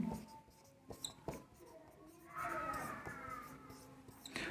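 A pen scratches across paper while an exam answer is written out. Quiet, close, intermittent strokes with short pauses between them.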